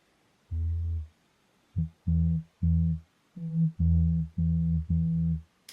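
Deep, smooth sine wave synth bass notes from Serum pulse in a short rhythmic pattern, about eight clean tones separated by brief gaps, with no other sounds.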